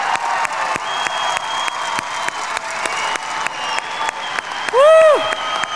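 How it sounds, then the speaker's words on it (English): Audience applause at a 2018 college commencement ceremony, sustained clapping filling a large hall with a shout or whistle rising near the end, crowd noise steady throughout. "give them a round of applause"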